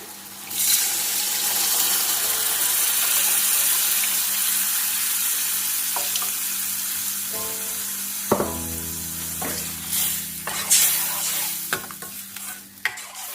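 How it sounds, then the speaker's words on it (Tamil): Aloe vera curry frying in a pan as tamarind water is poured in and stirred: a steady sizzle throughout, then louder clattering stirring and splashing in the final seconds, with no voices. "இப்போ இதுல ஒரு சின்ன லெமன் சைஸ் அளவு புளி கரைச்சி வச்சிருக்கேன், அதையும் ஆட் பண்ணிக்கோங்க"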